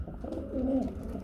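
Pigeon cooing close by, one soft low throaty coo lasting under a second, heard alone against faint background noise.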